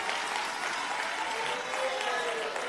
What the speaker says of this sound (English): we thank you and applaud you